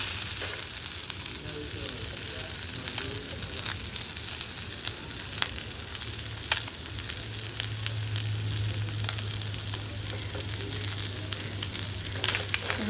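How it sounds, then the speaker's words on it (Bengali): Steady hissing and sizzling of fish frying in a pan, with occasional pops and crackles, fairly close and continuous throughout. "এর মধ্যে মাছটা দিয়ে দিলাম এটা একটু ভেজে"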